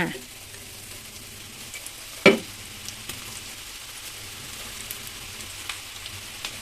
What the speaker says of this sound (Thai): ตั้งกระทะใส่น้ำมัน ใช้ไฟกลางนะคะ แล้วก็เอาหอมลงทอดเลยค่ะ